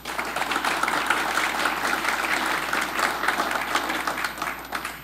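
An audience claps and applauds steadily to welcome speaker Karen Bennett at a Georgia MBA alumni event, a dense, sustained wave of clapping that tapers off toward the end.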